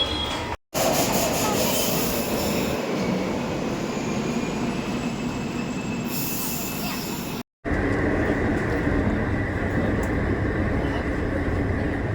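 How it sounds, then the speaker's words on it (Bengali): Metro train at a station, a loud continuous rumble of wheels and motors with a high whine, briefly cut off twice, the sound dropping to a steadier hum near the end. "মেট্রোতে যাচ্ছি মেট্রো স্টেশনে যাচ্ছি"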